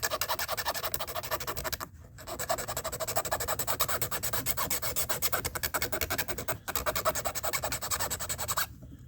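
Bone needle being filed down by hand, a steady rapid rasping stroke repeated continuously and close, with two brief pauses between bursts.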